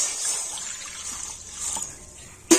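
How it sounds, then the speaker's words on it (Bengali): Water poured from a container into a wok in a home kitchen while making steamed pitha: a close, steady trickling splash that ends with a sharp clatter. "এবার আমি কড়াতে দিয়ে দিচ্ছি জল।"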